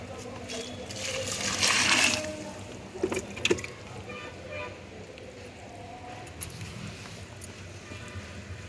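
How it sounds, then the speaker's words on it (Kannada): A little water is poured onto a dry coco peat brick, giving a short, close splashing pour followed by faint soft squishes and trickles, with a voice talking. "ಇದಕ್ಕೆ ನಾನು ಸ್ವಲ್ಪನೇ ನೀರನ್ನು ಹಾಕ್ತೀನಿ ಜಾಸ್ತಿ ಹಾಕಲ್ಲ"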